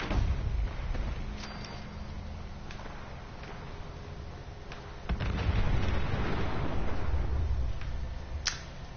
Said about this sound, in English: that is a Mr. Gutsy explosion